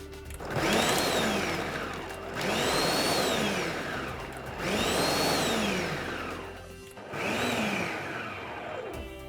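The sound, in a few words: Kenwood MultiOne food processor pulse-chopping a whole onion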